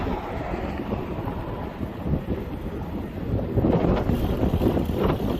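Steady wind buffets the microphone of a bicycle on a frontage road beside an interstate highway, a loud continuous low rumble that grows rougher and stronger toward the end, with no talking.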